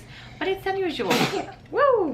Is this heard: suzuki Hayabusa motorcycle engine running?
no